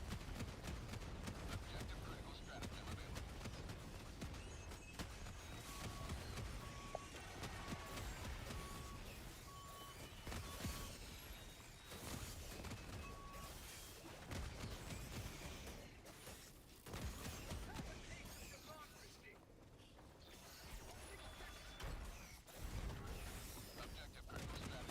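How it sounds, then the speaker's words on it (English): Mechanical grinding and clanking from a tank's gearbox in a video game, continuous and steady throughout, mixed with other game noise and voices. "the gearbox on this thing must fucking hate me. I just hear like gears cranking"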